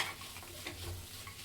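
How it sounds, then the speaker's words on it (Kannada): Soaked peas fry in ghee for ghee rice, a soft steady sizzle with faint stirring scrapes, quiet and close with no talking. "1-2 ಮಿನಿಟ್ಸ್ ಫ್ರೈ ಮಾಡ್ಕೊಳ್ಳಿ."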